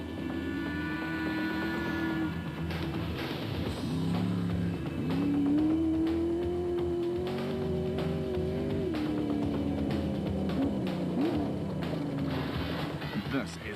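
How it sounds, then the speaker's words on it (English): A big-engined yellow Atlas Copco rally car racing in the special vehicle class at the Rustenburg 200, its engine droning and revving steadily, with the pitch rising and falling as it accelerates, under a commentator's voice. "This is one big engine, and it always wants a bit more punishment."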